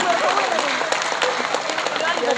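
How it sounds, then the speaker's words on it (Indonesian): An audience at a live education talk show claps in a continuous patter of hands with a murmur of voices underneath, moderately loud and steady throughout. "Tepuk tangan dulu."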